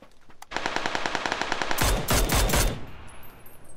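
Automatic gunfire in PUBG on PS4: rapid rhythmic bursts of shots run for about three seconds, peaking in a louder, denser volley near the end before fading, with no talking over it.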